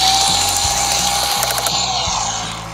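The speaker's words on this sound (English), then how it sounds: "let's screw it on with some screws" Toy screwdriver driving toy screws into a plastic toy vehicle: a steady, close ratcheting clicking with whirring gear texture, continuous for almost three seconds and fading slightly at the end, with no talk.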